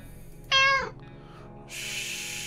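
A single clear cat meow rises and falls in the game 60 Seconds. A short quiet pause follows, then a steady hiss of noise begins and carries on to the end.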